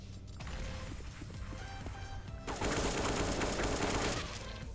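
Rapid automatic gunfire from the video game CS:GO comes in one loud sustained burst of about two seconds, preceded by lighter mechanical clicks and clatter.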